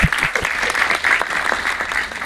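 An audience applauds the film's writer and director, loud, close and dense clapping that keeps going without a break for the whole moment.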